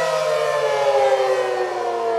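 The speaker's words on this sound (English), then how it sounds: "just 8 hours after this siren mistakenly sounded was the monthly test of these sirens" A loud, sustained tornado warning siren during a monthly test wails on a steady tone, droning continuously without pause.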